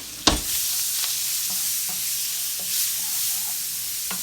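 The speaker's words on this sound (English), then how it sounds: "I'm gonna put my onions in here, time to make the sauce" Onions sizzling in an old pot as a sauce begins for stuffed pork chops, with a sharp clatter of a utensil at the start, then a steady frying hiss broken by soft scraping stirs.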